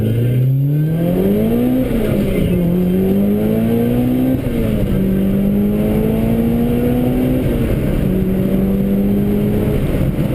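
A Mitsubishi Evo fitted with an FP Red turbo pulls at full throttle, its engine note climbing sharply through successive gears with brief drops at each shift, loud and close from inside the car.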